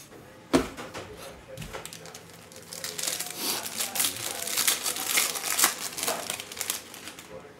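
A foil pack of 2019 Prizm football trading cards being ripped open, with a sharp tear followed by several seconds of close, continuous crinkling and rustling of foil wrapper.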